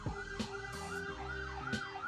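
City emergency vehicle siren passing an Uber driver's car: a loud wailing, swooping siren mixed with blasts of the horn, close and dominating the street noise.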